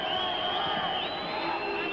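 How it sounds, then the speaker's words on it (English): A boxing arena crowd at the 1976 Olympics booing during Howard Davis's bout against Yukio Segawa: a steady, dense roar of many voices that holds without a break throughout. "The fans are booing Davis."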